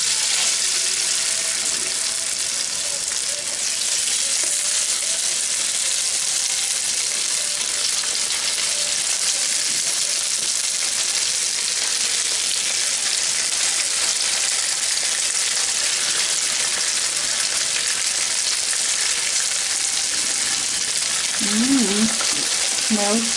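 Pepper steak frying in hot oil gives a loud, steady sizzle that runs unbroken through the whole stretch, with a brief voice surfacing near the end.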